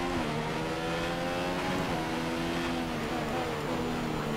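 Formula 1 car engine in the racing game F1 2015 at Barcelona, a continuous high-pitched whine holding steady with slight pitch shifts, loud and unbroken throughout, with no talking.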